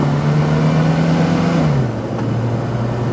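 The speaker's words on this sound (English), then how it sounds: "something happens, a lot of suction noise" A 1979 Volvo 244 engine under full throttle, a loud steady drone with a strong intake suction whoosh, the pitch holding then dropping about two seconds in as the load shifts; no voices.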